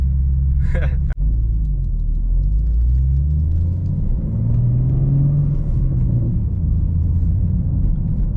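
A 2024 BMW M2 (G87) sports car engine rumbles loud and steady at close range, its pitch rising and falling gently, with a sharp click partway through.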